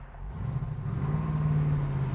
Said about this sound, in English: This baby is just driving sweet as can be, going straight down the road